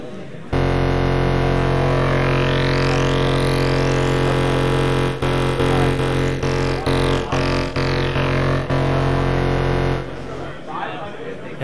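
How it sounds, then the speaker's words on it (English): A MOK Waverazor synthesizer drones through a hard-synced patch with detuned segments, a dense buzzing tone with sweeping harmonics rising and falling and rhythmic pulses midway, loud and sustained before cutting off near the end. "I have a hard sync set up on each segment in this patch"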